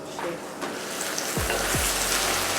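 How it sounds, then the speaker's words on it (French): Food cooks in a pot, bubbling and sizzling steadily while a utensil stirs it, with a few faint scraping knocks. "je vais déjà tourner la marmite"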